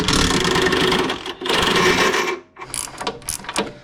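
Wrench or ratchet loosening the inner bumper bolts on a Jeep before a winch is fitted, a dense, loud run of mechanical clicking and whirring, then a short pause and scattered clicks, with no talking.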